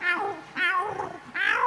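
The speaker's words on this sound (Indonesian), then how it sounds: "Kucing arep tukaran ora sida mergo diceluk mboke" Two cats yowl at each other on a cool night before a fight, with three drawn-out rising and falling caterwauls in quick succession, close and loud.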